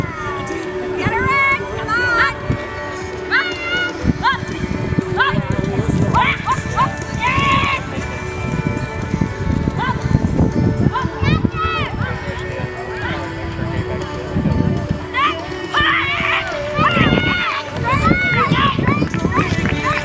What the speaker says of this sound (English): In the ring now, Makayla Dixon riding Extreme Minnie